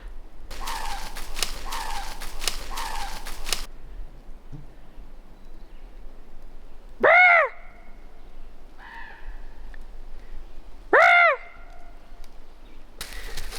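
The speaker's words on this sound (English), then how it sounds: "Oh, that's a quarking raven." A raven quarks in the hills, two loud, distinct calls spaced several seconds apart with a fainter call between, over quiet outdoor ambience and some earlier rustling.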